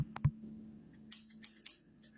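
Scissors snip while a wrapped Paw Patrol gift is being opened, giving a few short, sharp cuts and clicks. They are close and fairly quiet, spaced out over about two seconds with short pauses between.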